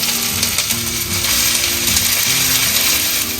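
Chopped garlic and ginger sauté in coconut oil in a pan, with a dense close sizzle and a rhythmic scraping of a utensil stirring through the short stretch.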